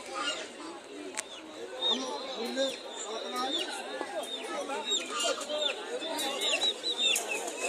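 Many chickens cluck and squawk in a crowded market, with scattered sharp calls and flutters over steady background chatter of people talking.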